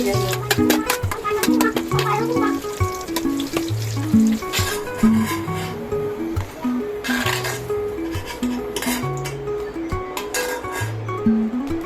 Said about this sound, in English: Cook the sausage with tepung bestari.